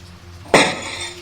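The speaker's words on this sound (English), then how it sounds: "Glass shattered behind them" A glass wine bottle smashes once midway, a sharp loud crash that trails into a bright scatter of tinkling shards, preceded by quiet room tone in a fantasy audio drama.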